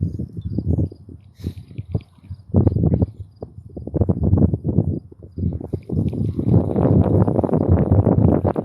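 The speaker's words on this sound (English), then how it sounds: "And that wind's gonna give me a headache." Gusty wind buffets the microphone on a windy bass fishing day, a rough, low roar that surges and drops in uneven bursts before settling into a steady, louder rush near the end.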